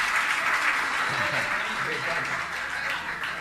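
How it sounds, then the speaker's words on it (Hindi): A congregation at a Jain religious gathering applauds the parents, steady dense clapping sustained throughout with a voice or two faintly under it. "ताली तो बजाइए माता पिता के लिए।"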